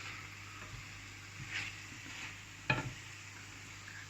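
Wild bolete (porcini) mushrooms stirred in a pan with a couple tablespoons of water, a quiet, soft sizzle with light scraping strokes and one sharper clink of utensil on pan partway through.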